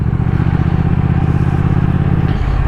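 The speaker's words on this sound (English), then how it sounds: "I just want to take the bike for a little longer spin." A Triumph Thruxton motorcycle cruises along on a ride, its engine giving a steady low throbbing drone with a slight shift in tone near the end, close and continuous.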